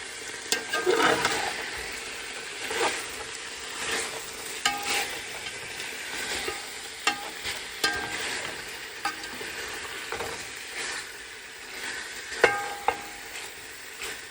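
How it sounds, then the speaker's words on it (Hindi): Chicken filling for spring rolls stir-fried in a pan, a steady soft sizzle broken by repeated scraping and clattering stirs at an uneven pace, close and fairly quiet. "अभी इसे मैं स्टर फ्राई करके रेडी कर लूँगी।"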